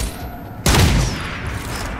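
Gunfire from a squad soldier in the turn-based strategy game XCOM 2: one sudden loud burst of shots that rings out briefly and then settles into a sustained rumbling decay.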